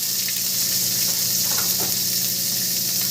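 Onion sizzling in hot mustard oil in a wok, seasoned with dried red chilli and bay leaf, a steady close frying hiss with faint stirring scrapes throughout.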